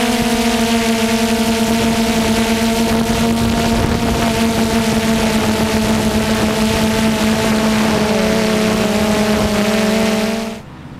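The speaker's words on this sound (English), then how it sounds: "This is the audio you get from the drone." A camera drone's own onboard recording captures a loud, steady, high-pitched motor and propeller whine with a constant buzzing drone that continues unbroken before cutting off abruptly near the end.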